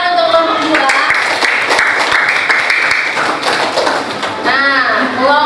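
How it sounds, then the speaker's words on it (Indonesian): Students clapping for a group after a classroom presentation, continuous moderately loud applause throughout, with voices talking over it near the start and end. "tepuk tangan untuk kelompok 2"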